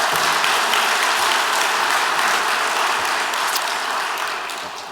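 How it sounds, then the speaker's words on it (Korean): A church congregation applauds volunteer service teams during a worship service, a thick, steady wash of clapping from a large crowd that holds evenly and then fades slightly at the end. "그리고 이분들을 위한 큰 박수 부탁드립니다."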